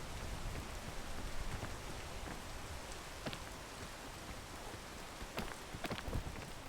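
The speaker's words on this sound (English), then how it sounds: "We'll wait for the rain to stop." Steady rain falls outdoors, a dense continuous hiss with scattered louder drop impacts throughout, close and even in level with no voices.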